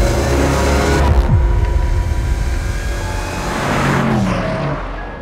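A 542 bhp Range Rover Sport SVR runs flat out on the Nürburgring circuit. Its loud engine roar swells and falls as it sweeps past near the track, and a second pass builds toward the end.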